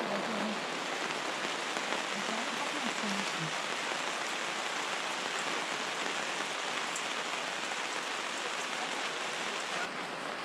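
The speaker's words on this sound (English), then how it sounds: "The rain hasn't yet eased" Heavy rain pours steadily outdoors on a hiking trail along the Malerweg, a dense, unbroken hiss of drops at a constant level.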